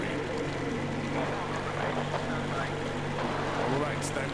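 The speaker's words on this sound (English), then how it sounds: "Kill the engine, guys!" A vehicle engine idles and runs in Metro Exodus, a steady low rumbling drone that holds evenly from start to finish with faint background noise.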